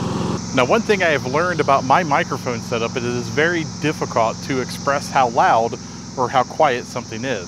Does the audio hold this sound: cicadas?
yes